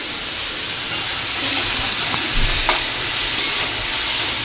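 Garlic paste hits hot oil in a home kitchen pan while chow mein is being cooked, giving a steady, close, bright sizzle with faint stirring clicks and no talking.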